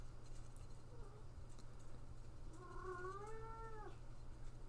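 A house cat meows faintly in a quiet indoor room where someone is painting a miniature, with a few short soft calls followed by a longer rising-and-falling meow and no talk.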